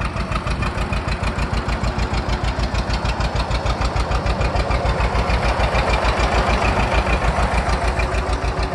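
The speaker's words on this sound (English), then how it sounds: "We use a lot of these older two-cylinder John Deere tractors to do our farm work" An older two-cylinder John Deere tractor engine runs at a steady idle, its slow, even popping beat loud and close and continuing without a break throughout.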